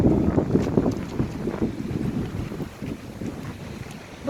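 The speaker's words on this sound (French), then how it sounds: "fait beau mais il y a un peu de vent" Wind buffets the microphone in low, uneven rumbling gusts, steady throughout with no voices.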